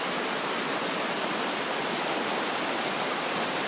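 River water flowing at low level, a dense, steady rushing hiss of moving water, close and constant, with no voices.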